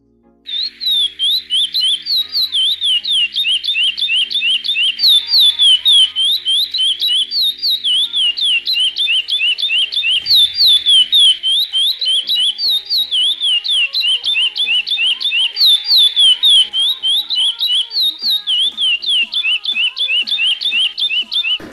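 A curió bird sings the praia clássico song loud and close, with continuous rapid chirping and whistled phrases repeating steadily, alone without talk.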